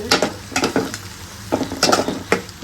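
Dry spices are stir-fried briefly in a pan, with a steady sizzle broken by repeated scraping stirs of a spoon, loud and close, with no voices.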